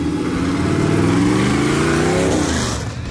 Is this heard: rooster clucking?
no